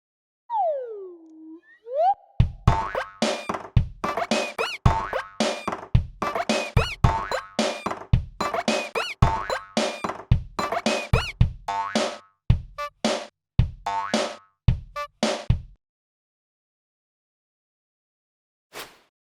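A fan-made My Singing Monsters creature, Zulu, built from a rubber duck and a dodgeball, performs a bouncy rhythmic tune of squeaky boings and rubbery plops after a sliding chirp, then goes silent apart from one last tap.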